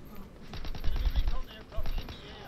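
Call of Duty WW2 gunfire, bursts of rapid automatic shots clustered in two volleys, fairly close, with a voice talking over them.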